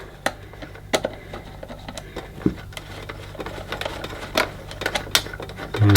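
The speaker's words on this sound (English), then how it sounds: "So it looks like there's just 2 screws to undo." Screws being undone on a Filter Queen Majestic Triple Crown vacuum cleaner: a series of small irregular clicks, taps and ticks of a screwdriver and handling, close and fairly quiet, with no speech.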